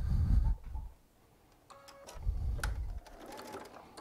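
A Baby Lock Solaris sewing machine stitches fabric for quilt piecing, running in short bursts with quiet pauses between, close and moderately loud, with small clicks around it.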